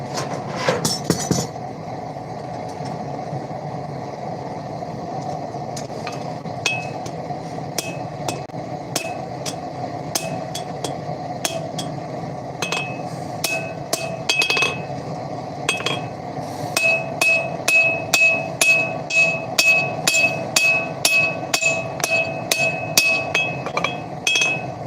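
A hammer strikes titanium tongs on an anvil during live forging, starting with sparse ringing blows that build into fast, steady metallic clinks over a constant shop hum, with no talking.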